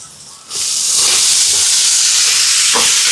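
Onions, garlic paste and tomatoes sauté in a pan for a birthday meal for an elder care home; after a quiet half second, a loud, hissing sizzle bursts in and holds steady, close up.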